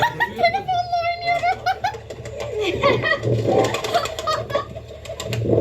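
Pigeons coo nearby in soft repeated burbling calls, mixed with someone talking and giggling and other voices over them, with the calls fading under the chatter.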